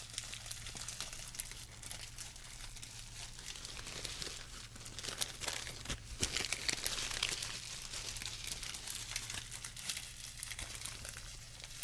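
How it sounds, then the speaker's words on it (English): Close, steady crinkling of material in an ASMR trigger session, dense and continuous throughout with small surges in intensity and no talking. "The crinkling will cause you to become catatonic."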